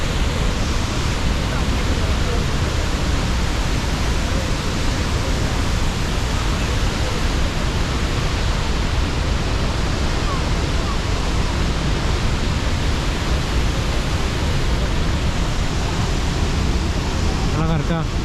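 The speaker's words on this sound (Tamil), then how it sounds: "அப்படியே அருவி கொட்டுது" Athirappilly waterfall pours down in a constant, loud wash of falling water that fills the whole stretch evenly, like dense surf, with no break.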